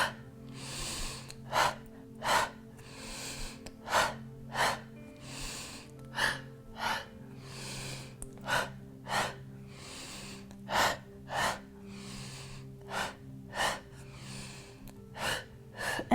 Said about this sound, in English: You can exhale through your mouth and then inhale.